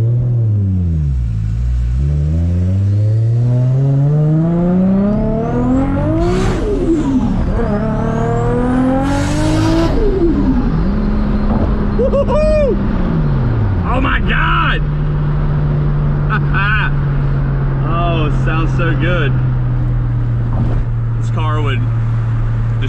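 A 600+ horsepower Toyota Soarer engine revs hard again and again, rising and falling sweeps climbing to sharp peaks, then settles into a steady loud idle with sputtering pops near the end; people talk over the engine.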